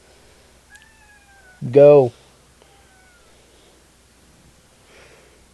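A pet cat gives one loud, drawn-out meow close to the microphone in a quiet indoor room. A person speaks briefly just before it.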